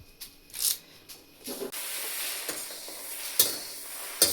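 Curry leaves roasting in a pan while chilli powder is being made: intermittent dry rustling stirs and a soft sizzle, close, with brief sharp crackles and a hiss later on, no voices.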